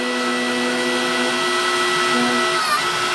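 A 20-ton electric hydraulic press motor runs with a steady, loud mechanical whine and hum, holding constant throughout with a slight pitch shift near the end, no talking.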